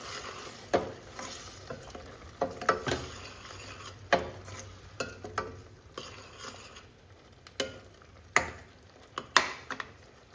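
Mushrooms and green peas frying in a pan are stirred with a spoon, giving soft irregular scraping strokes over a faint sizzle, fairly quiet and close, with no talking.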